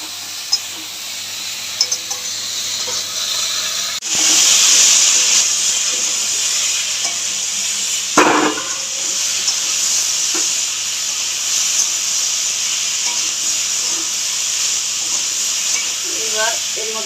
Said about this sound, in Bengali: হলুদ, আবার খানিকক্ষণ ভাজবো।